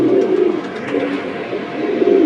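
Pigeons at a Bangladeshi pigeon market, a pair of fancy punky birds of good shape and quality, give a steady low murmur of close cooing that fills the whole stretch without a break.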